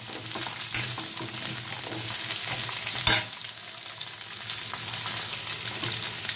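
Cauliflower florets and potato pieces fry in hot oil in a pan, giving a continuous close sizzle broken by stirring scrapes, with one sharp clatter midway before the crackle settles back.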